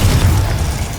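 Confringo blasting spell going off in Hogwarts Legacy, a single loud, heavy boom with deep rumbling low end that stays strong through the whole second.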